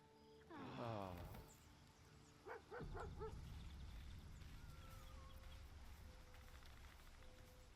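A dog in a fantasy role-playing video game gives a drawn-out whine, then three quick barks close by, over a steady bed of game ambience.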